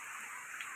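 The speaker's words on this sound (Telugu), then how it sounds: "వర్షం బాగా పడుతుందండి, బయట బాగా మబ్బు కూడా పెట్టుంది." Heavy rain pouring outside under dark, cloudy skies during a stormy festival-season downpour, a steady dense hiss with no pauses and no voices.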